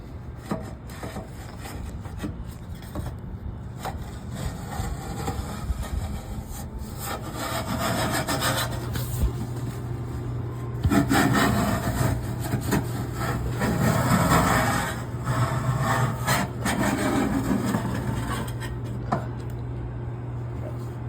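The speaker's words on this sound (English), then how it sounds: "Jimmy's over here scraping the duct." A scraper works grease off the inside of a kitchen exhaust duct at a cafe, making continuous rough rasping strokes over a steady low hum, with a voice occasionally heard nearby.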